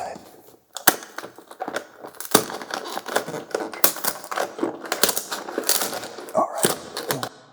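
A Lego Ninjago Legacy Ninja Display set box, art. 71866, torn open up close: loud crinkling cardboard and plastic, sharp rips and snaps in an irregular, busy rhythm.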